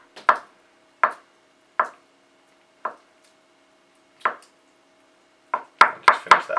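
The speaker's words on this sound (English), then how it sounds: "I'm going to chop it so you have nice long thick kind of matchstick pieces" A knife cutting a vegetable into thick matchstick strips on a board, single crisp knocks spaced about a second apart, then a quicker cluster of chops at the end, close and clear with no talking.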